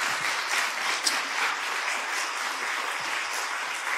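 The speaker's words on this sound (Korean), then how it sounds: "우리 하나님께 영광의 박수" A church congregation at a Korean Full Gospel service claps together in thick, sustained applause, moderately distant and even throughout, with no speech over it.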